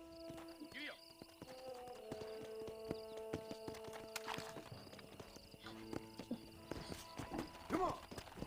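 Horse hooves clip-clop at a steady walking pace in the western video game Red Dead Redemption (mobile version), moderately close, with a musical score and speech heard over them.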